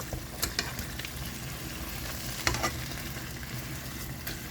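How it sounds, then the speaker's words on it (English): Pork chops frying in a pan give a steady sizzling hiss, broken by a few sharp clatters and bursts as the chops are flipped over; no one speaks. "we're going to flip these pork chops over"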